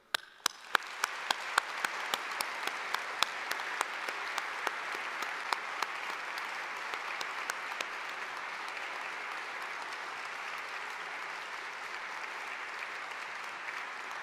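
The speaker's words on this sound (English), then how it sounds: "Will you please join me in giving a humdinger clap of thanks to all those who supported you" Graduation ceremony audience at York St John breaks into sustained applause, starting with a few distinct claps that swell within a second into dense, steady clapping from a large crowd, holding evenly for the full stretch without voices.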